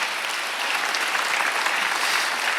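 A church congregation at a Sunday worship service claps in sustained, even applause, a dense, close patter with no voices.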